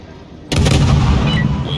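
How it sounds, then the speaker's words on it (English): A warship in World of Warships fires all its barrels at once: after brief quiet, a single loud, sudden broadside boom erupts and rolls on as a thick, rumbling roar that slowly fades. "you fire all barrels at one time"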